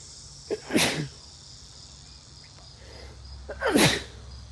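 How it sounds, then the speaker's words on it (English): Two sharp sneezes about three seconds apart, each a sudden burst over a quiet background with faint insect-like chirping. "I had to sneeze"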